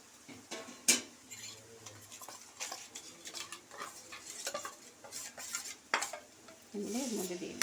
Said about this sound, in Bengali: এটা দিয়ে ভালো করে মশলাটা দিয়ে ভালো করে কষে নেব, তারপরে জল দেবো।